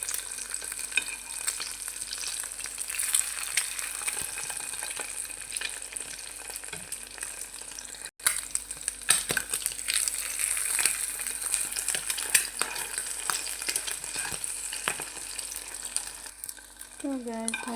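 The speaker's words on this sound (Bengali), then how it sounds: "এই জন্য ডিম পোচ করতে হচ্ছে।" An egg poaching in a hot pan sizzles and crackles steadily throughout, with occasional light clinks and a brief cut partway before the frying resumes and a low voice murmurs near the end.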